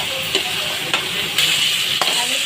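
Beef being stirred as it fries in a pan with garam masala, a steady close sizzle broken by a few soft scraping strokes of the spoon, with no talking.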